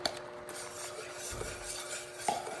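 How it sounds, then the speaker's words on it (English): A whisk working caramel and half and half in a pan on the stove, steady metallic scraping and clinking against the pan with a light sizzle underneath, close and continuous. "you're going to want to whisk this the whole time that it's over the stove like this"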